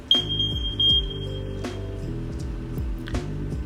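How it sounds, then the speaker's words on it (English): A smoke alarm is tested, giving a high piercing beep tone over low background tonal sounds with repeated clicks. "In the living area is the smoke alarm."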